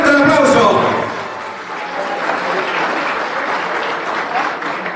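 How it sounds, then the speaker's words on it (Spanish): Loud audience applause at a Bolivian government ceremony with President Luis Arce, opening with a speaker's voice over it, then settling into steady clapping that carries on to the end. "¡Fuerte el aplauso!"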